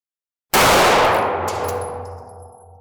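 A single loud, close 9mm handgun shot from a budget pistol rings out after a moment of silence, its report decaying slowly with a faint metallic ring.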